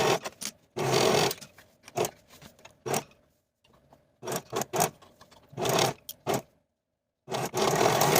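A sewing machine stitches the curved back seam and gusset of a pair of leggings in separate bursts, each a loud mechanical whir. The bursts stop and restart with quiet pauses between them, and no one speaks.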